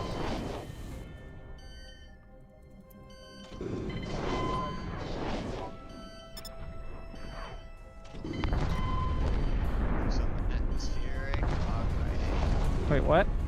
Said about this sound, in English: I got incoming torpedoes.